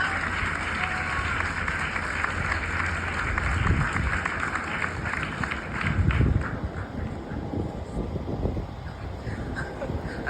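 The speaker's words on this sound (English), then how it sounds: "Everyone, another round of applause for this amazing panel." An audience at a statewide political meeting and protest applauds a panel, a dense, steady wash of clapping from many hands throughout, swelling briefly near the middle, with some background voices.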